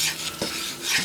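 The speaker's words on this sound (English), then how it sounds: "let me mix that around a bit" A spoon scrapes and stirs guajillo chicken with oregano in a pan, a short close burst of soft clatter over a faint sizzle, with no talking.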